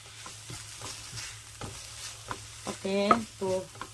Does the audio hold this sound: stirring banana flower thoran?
yes